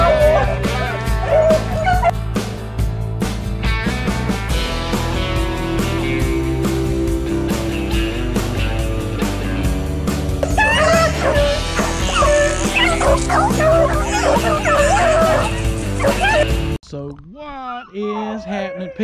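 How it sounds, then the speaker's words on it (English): Hunting dogs barking, yipping and whimpering during a South Carolina rabbit hunt, mixed in with loud music and voices, with the yelps coming in scattered bursts. "you can hear the dogs in the background"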